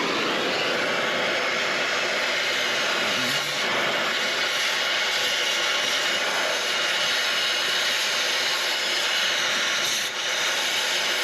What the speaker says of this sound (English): we're just going to go ahead and burn these exhaust bolts off now